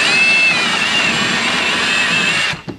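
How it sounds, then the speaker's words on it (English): Steady high whirr of a power wrench spinning out the lower shock bolts on a Tesla Model Y, close and loud, running unbroken before stopping abruptly with a small clatter. "Then you can use the wrench."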